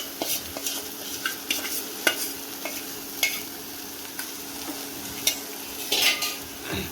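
A rice and besan flour batter for kothimbir vadi is poured into a pan and stirred, with repeated scraping strokes and utensil taps over a low sizzle, close and steady.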